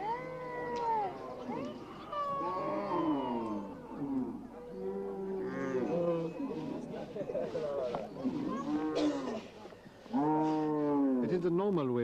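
Cattle low and moo repeatedly at a Dinka cattle camp, long drawn-out calls overlapping one another, close and fairly loud.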